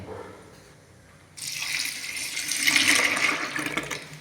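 Five-day fermented batter is poured into a container, starting with a quiet lull and then giving way to a steady, close liquid gush and splash that swells a little before easing off near the end.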